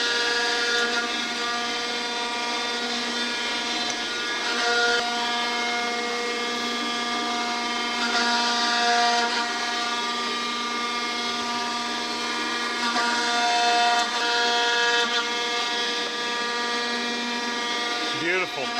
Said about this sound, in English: Love a planer shaper, man. They love to watch that cut come off.